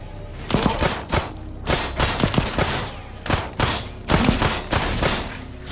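Bursts of gunfire in the video game Memories of Mars, several rapid volleys of shots with short pauses between them, loud and close, with no talking over them.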